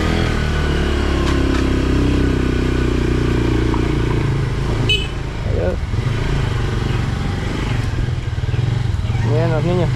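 Motorcycle on a ride through Valle de Jesús in San Fernando, Chalatenango, its engine a continuous low drone with some clatter, while someone talks over it.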